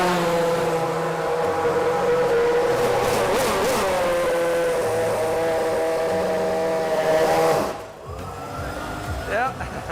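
A Formula 1 car at a live demo in Vietnam, engine held at a loud, sustained high-pitched rev up close, wavering slightly before cutting off sharply, followed by a lower, rougher idle.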